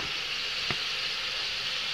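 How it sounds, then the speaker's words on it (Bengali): Spice paste fries in hot oil in a home kitchen, giving a steady close sizzle with one brief knock of stirring partway through, and no voices. "এই দেখো ভালোভাবে মশলাটা একদম ভাজা গেছে, দেখো না তেল ছাড়ছে।"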